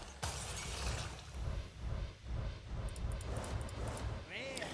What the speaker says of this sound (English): Has the pack opening sound always been like glass shattering?